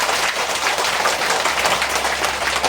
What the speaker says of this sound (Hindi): इनके लिए जोर से ताली बजाओ जो आपके लिए ये कार्यक्रम है।